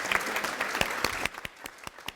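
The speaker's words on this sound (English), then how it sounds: "Please join me in another round of applause for our Woman of the Present." Applause from an audience at a women's leadership awards event, starting as a dense patter of claps and thinning out partway through into scattered individual claps.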